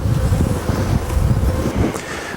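Honey bees buzzing around a hive frame while a queen is being marked outdoors, a dense continuous hum with passing individual buzzes close to the microphone, slight wind noise underneath.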